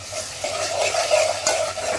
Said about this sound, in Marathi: तर हे जे वाटण आहे मी टाकते त्याच्यात हळूहळू. आणि ह्याला थोडंसं आपण तेल सुटेपर्यंत परत